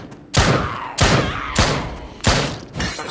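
Gunshots in a VR zombie shooter firing headshots at zombies, five sharp loud bangs spaced about half a second apart, each with a short booming tail and no talk over them.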